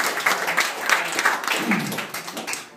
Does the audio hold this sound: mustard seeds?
no